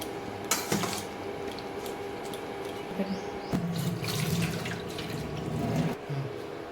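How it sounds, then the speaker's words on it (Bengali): Hot water runs steadily into a sink while cauliflower florets are rinsed, a continuous close splashing wash with brief clinks and drips over about seven seconds. "আমি শুধু এই গরম জলে ধুয়ে নেবো"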